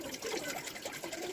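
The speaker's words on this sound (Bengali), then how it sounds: "এবার আমি না পানি দিব।" Water poured into a pot for Korean noodles, a steady trickling fill at close range lasting just over a second with no talk.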